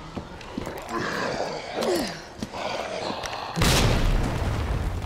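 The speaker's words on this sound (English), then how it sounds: "Might be a good idea for me to use a grenade, just to free up a slot too." A grenade blast in Resident Evil 2 Remake bursts out as one loud, broad boom about two-thirds through, after quiet game ambience and scattered clicks, and a dense roar holds to the end.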